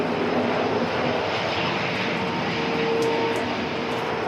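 A Cathay Pacific Airbus A350-1000 jet at Christchurch Airport gives a steady, loud, broad engine roar that holds evenly across the whole stretch with no pauses, in wet, windy weather.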